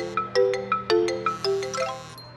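A mobile phone rings in a classroom with a repeating melodic chime of bright, bell-like tones in a steady rhythm, loud and close, with no talking over it.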